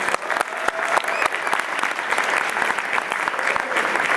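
Audience applause for orchestra musicians after a concert, dense and steady clapping from a crowd that fills the room and keeps up evenly throughout.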